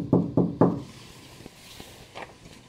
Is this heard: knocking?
yes